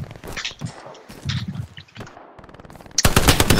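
Gunfire from the World War II shooter Hell Let Loose: scattered shots and faint footsteps under muffled battlefield noise, then a loud, close burst of rapid machine-gun fire in the last second.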